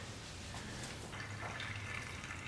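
Water is poured into the top hose of a car radiator during an E30 radiator replacement, a steady close trickling wash that lasts the whole stretch.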